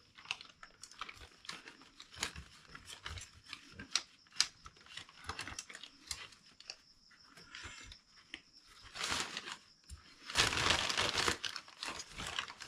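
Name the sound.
cutting a carburetor vent tube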